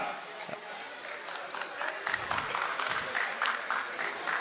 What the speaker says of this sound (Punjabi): ਕਾਸ਼ਿਫ ਮੰਜ਼ੂਰ ਸਾਹਿਬ ਜੀ, ਤੁਹਾਡੀ ਸਭ ਦੀ ਤਾਲੀਆਂ ਦੇ ਨਾਲ।